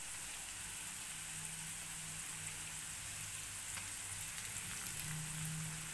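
Spice paste and salted, browned onion sautéing in a pan for a sprouted moong usal, a steady soft sizzle running throughout with faint low hum, no voices.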